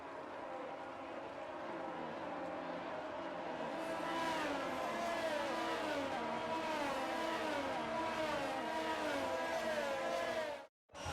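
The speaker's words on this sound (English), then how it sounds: "The formation lap gets underway then" F1 22 race cars on a formation lap in dry conditions, a steady field of engines droning and revving with rising and falling pitch sweeps, a continuous loud roar that drops out briefly near the end.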